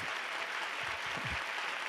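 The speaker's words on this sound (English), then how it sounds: "give me a big round of applause" Dense, steady audience applause fills a symphony event in Tucson, many hands clapping together loudly and continuously from start to finish, with a faint murmur of voices beneath.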